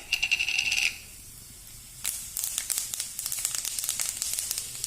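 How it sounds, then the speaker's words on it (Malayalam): Mustard seeds crackle and pop in hot oil in a pan, a brief sizzle at the start, then a near, sharp, irregular run of quick pops that keeps on to the end, with no voices. "കടുക് പൊട്ടിയിട്ടുണ്ട്."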